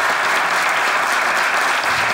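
Studio audience applauding a comedy sketch team after a performance, steady dense clapping from a crowd throughout, loud and close with no gaps.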